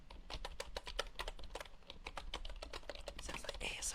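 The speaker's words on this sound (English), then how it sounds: "I've never used a wooden keyboard." Fingers tap quickly on a wooden keyboard, producing crisp close-up clicks in a rapid, uneven typing rhythm that continues throughout.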